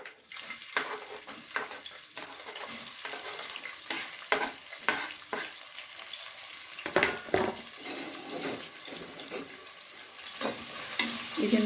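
Chopped onions fry in oil with cinnamon, cloves, mace and bay leaf, a constant close sizzle broken by frequent scraping stirs and clatter.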